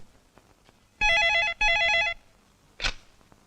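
A telephone in a Hindi film scene rings twice, two bright electronic trills with a short gap between them, loud and close, followed by a brief thump as the receiver is picked up.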